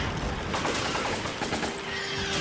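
Resident Evil 5 gunfire rattles in a dense, loud stream of rapid shots over busy game noise, with brief sharper cracks and a thin tone near the end.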